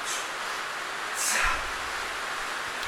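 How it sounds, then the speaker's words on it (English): Rain drumming on a shed roof as a steady, even broadband hiss that swells slightly midway, heard alone with no talk. "It's just rain on the shed"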